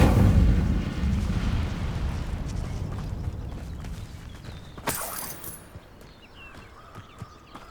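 In Hogwarts Legacy, the Incendio fire spell bursts out with a deep, rumbling whoosh that fades over several seconds, followed by a sharp crackle and scattered small impacts.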